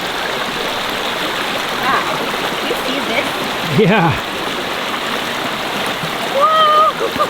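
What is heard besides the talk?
flooded raging stream at old stone watermill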